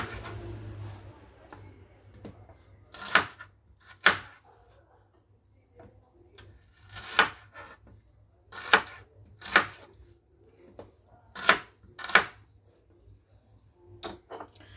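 Sharp knife chops through onions landing on a board in irregular bursts, several strokes spaced apart with quiet gaps between, close and fairly crisp.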